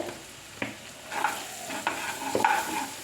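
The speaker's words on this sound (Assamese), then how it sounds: "এই তেলখিনিতে মই চুজিখিনি ভাজিম ভালকৈ" Semolina fries in fish oil in a pan with a soft continuous sizzle, while a utensil scrapes and stirs in irregular strokes close by.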